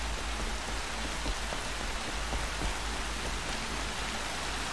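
Rain in the Horizon Zero Dawn video game, a steady dense hiss of falling rain with a low rumble underneath, continuous and even throughout.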